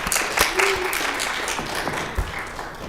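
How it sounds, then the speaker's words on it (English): A bar mitzvah audience gives light, patchy applause, a soft spread of clapping from a modest crowd with occasional voices and room sounds mixed in. "You can clap."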